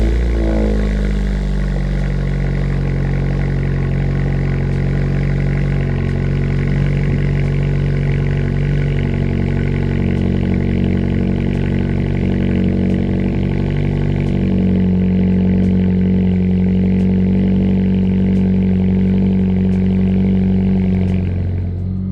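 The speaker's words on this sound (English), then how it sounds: "We do have the Cork Sport 63 millimeter exhaust catback exhaust on here. Sounds really good." A Mazda 3 fitted with a Cork Sport 63 mm catback exhaust idles and revs nearby, a deep steady exhaust drone that rises in pitch during blips of the throttle, running continuously throughout.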